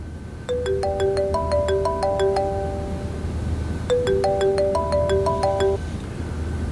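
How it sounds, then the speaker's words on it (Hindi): A phone ringtone plays while a call is being placed, a bright repeating electronic melody in two clear bursts with a pause between, standing alone over a low steady background hum. "क्या करूंगी मैं फोन उठा, हसन को फोन मिला"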